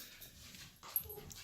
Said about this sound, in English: sorry, that's the dogs.